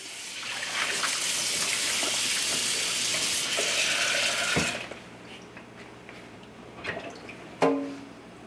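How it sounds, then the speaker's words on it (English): Warm tap water runs steadily into a kitchen sink over a raw brisket being rinsed, a close, continuous splashing rush for several seconds that then cuts off, leaving quiet handling noises and a brief clunk. "run a little warm water over the brisket"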